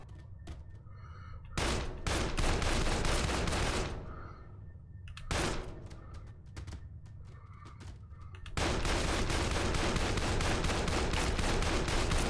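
Video game gunfire in a first-person shooter: bursts of dense, rapid shots that stop and restart, then a long sustained stretch of continuous automatic fire at the end, loud and close, with no talking.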